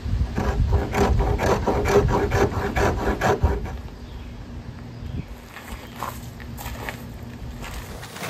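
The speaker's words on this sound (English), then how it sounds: "Sometimes a soft wood will scrape all right" A blade rasps rhythmically across soft wood to raise shavings, loud close scraping strokes for several seconds, then fainter scattered scrapes and rustles.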